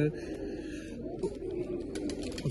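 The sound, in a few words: pigeons cooing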